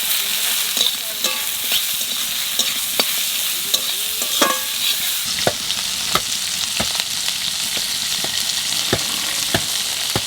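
Mustard greens with green chillies, turmeric and salt frying in a pan, a steady close sizzle broken by repeated sharp scrapes and clinks of a spatula stirring, with no talking.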